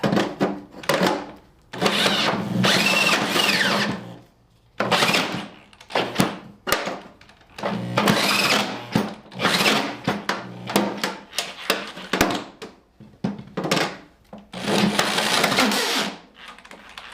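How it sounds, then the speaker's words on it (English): A power drill bores into material while a vehicular mini camper is built, in repeated loud bursts of whirring and grinding separated by brief pauses, with no speech. "And with the last breath of my drill, I drilled far enough, I think."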